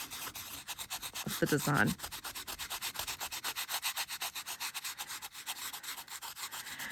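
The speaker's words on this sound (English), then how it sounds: "Also kind of keeping the sanding block horizontal and then working around the edges" A sanding block rubs over aluminium metal tape art in close, rhythmic back-and-forth strokes, a steady scratchy pulse repeating throughout, with a brief spoken phrase early on.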